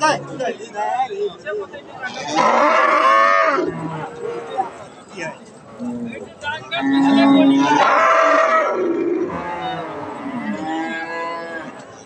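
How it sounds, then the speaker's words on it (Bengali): A crossbred dairy cow at a cattle market lows in long, drawn-out moos, two loud calls close by with a fainter one after, over murmuring voices of people talking nearby. "এই যে এইটা একটা ক্রস জাতের গাভী"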